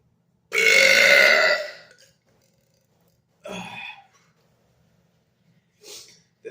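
Loud, drawn-out burps forced on command after gulping liquids in a quiet room: one long rumbling belch, then a shorter one, and a brief faint third.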